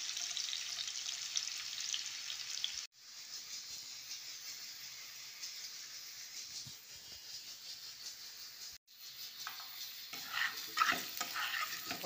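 Pork sizzles in a pan, a steady soft hissing crackle with two brief cutouts and some stirring or clinking toward the end, fairly quiet and close with no talk.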